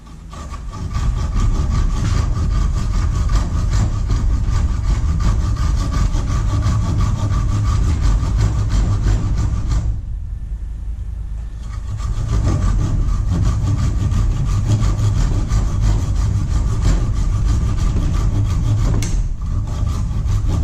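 A hand saw cuts a notch into wood held in a vise for a homemade bow saw, steady loud back-and-forth strokes close up, pausing briefly around the midpoint and then resuming.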